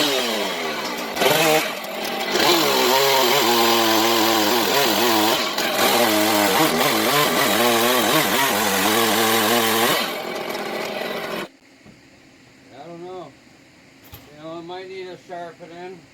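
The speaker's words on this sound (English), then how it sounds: "this is usually a pretty fast cutting saw" A chainsaw mills red pine into 6×6 beams, roaring loud and steady for about eleven seconds before cutting off, after which someone speaks over the quiet.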